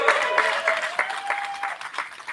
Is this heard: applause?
yes